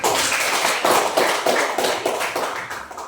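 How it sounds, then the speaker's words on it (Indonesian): Classroom applause from students after a group presentation, a dense patter of claps that swells and fades slightly, close and steady throughout with no talking over it. "Kita berikan tepuk tangan."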